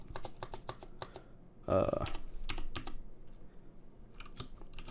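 Code for a C# project typed on a computer keyboard: close, crisp key clicks in irregular quick runs, with a short, louder low burst of noise partway through and quieter pauses between runs.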